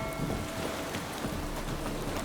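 Steady rainfall in The Witcher 3 video game patters across surfaces in a continuous hiss, dense and even throughout, with a faint low rumble beneath.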